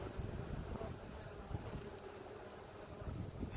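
Wind buffets a microphone outdoors beside a beehive, making a steady low rumbling roar that stays fairly faint and continuous throughout.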